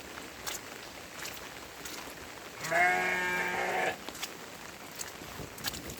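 One close, wavering bleat from a sheep standing in a pen on a village farm lasts about a second over faint outdoor background noise.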